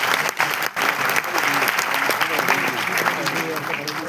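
Audience applause fills a hall at a cyber-expert talk on payment apps, steady dense clapping from start to finish with a brief dip early, voices faintly mixed underneath.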